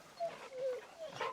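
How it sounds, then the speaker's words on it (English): Dog being petted in the Final Fantasy XVI video game, giving a few short, quiet whining yips and contented vocal sounds over low background game ambience. "we haven't petted the dog in a while"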